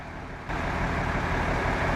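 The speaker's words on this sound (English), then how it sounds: "It is a MAN truck, but it's a beast." An old MAN truck, a big rugged heavy hauler moving an abnormal load, runs with a low, steady diesel rumble that swells louder partway through the short stretch.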